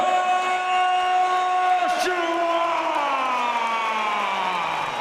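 A boxing crowd at an Anthony Joshua versus Michael Sprott fight roars in loud, sustained cheering and whooping after the knockout, with a brief burst of yells midway.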